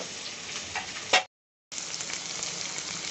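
Onion pieces, green chilli pieces and curry leaves fry in a pan, producing a close, steady hiss and sizzle with light crackles, cut by a brief silent gap before resuming.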